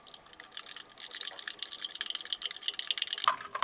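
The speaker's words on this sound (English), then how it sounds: "Let's give it a good stir." Cocoa powder being stirred into a small amount of water from a Dutch 24-hour combat ration, a quiet rapid clinking and scraping of a spoon against the container, growing busier toward the end.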